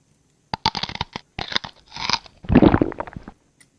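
Someone bites into and chews mochi dipped in chocolate sauce with a graham cracker coating, making several close, crisp crunches in quick bursts separated by short pauses, with no talking.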